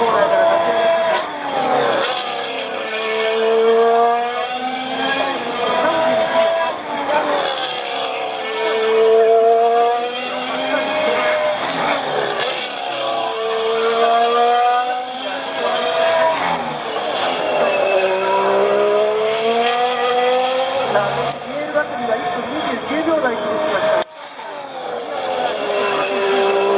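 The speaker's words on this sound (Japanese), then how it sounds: "さあ、まずミライコレンが最終コーナーから立ち上がり" Formula One cars at Suzuka during the 2019 Japanese Grand Prix exit the final corner one after another, their high-pitched engines sweeping up and down through repeated gear changes, loud and close, with race commentary running over them.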